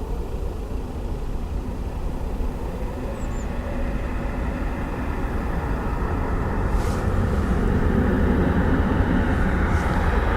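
Ryanair airliner at Dublin Airport, a continuous loud engine rumble that swells slightly toward the end, with no voices over it.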